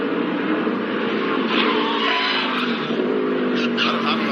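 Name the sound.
race car skidding with locked-up rear brakes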